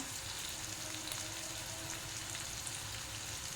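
Ginger and green chili paste sizzling in a pan with chopped tomato, a steady, even crackle of frying that holds at low volume throughout with no talk.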